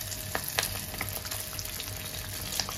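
Sweet rice appam batter frying in hot oil, giving a steady low sizzle with small crackling pops scattered throughout, close and fairly quiet, with no talking.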